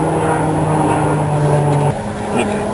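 An airplane drones steadily overhead, loud and continuous, then its low hum drops away partway through, heard outdoors beside car repair work.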